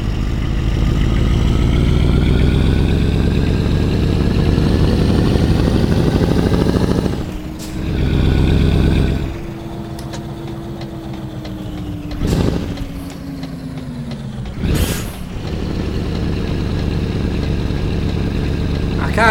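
Truck engine over-revving in Euro Truck Simulator 2, a loud, sustained droning roar that rises and falls through gear changes, with brief sharp breaks and hisses along the way.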